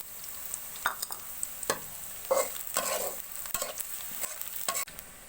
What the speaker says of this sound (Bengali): পেঁয়াজগুলো হালকা ভাজা হয়ে গেছে, এখন আমি এলাচ, দারচিনি, লবঙ্গ, গোলমরিচ আর তেজপাতা দিয়ে দিব